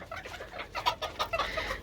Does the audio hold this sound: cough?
no